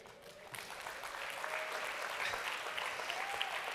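Sustained applause from a seated audience at a RAADfest anti-aging and longevity science event honors co-author David Good. A dense, steady patter of many hands holds at an even level throughout, with no speech over it.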